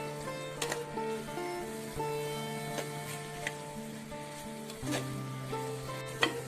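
Tomatoes sauté and soften in a pan for drumstick gravy, giving a constant low sizzle close by with faint occasional clicks and a steady background hum.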